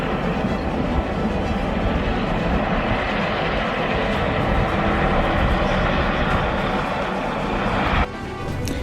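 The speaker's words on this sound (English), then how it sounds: "a helicopter taking off from the helipad" A helicopter takes off from a helipad: loud, steady engine roar with broadband rotor rumble throughout, cutting off abruptly near the end; no talking.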